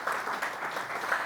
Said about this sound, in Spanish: yo quisiera en este momento que le diéramos un aplauso para ellos